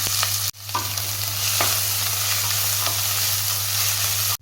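Two large chopped onions sautéing in oil in a pressure cooker for a colocasia mutton kurma, a loud, steady sizzle with occasional stirring scrapes and a low hum, briefly cut off at the start and end.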